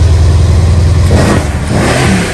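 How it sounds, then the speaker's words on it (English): A Mercedes C63S AMG engine, cold, revs loudly up close, climbing in pitch over a rumbling idle. "rev it on a cold engine"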